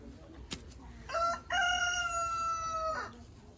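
A rooster crows once in a long, drawn-out call, fairly distant, at a village vineyard, after a sharp click; faint background noise surrounds it.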